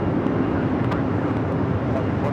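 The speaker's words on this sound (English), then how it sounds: "Viva Aerobus up next for takeoff here on the north side." A Viva Aerobus Airbus A321 bound for Monterrey takes off from the north side of LAX, a steady, loud broadband jet roar that holds without a break.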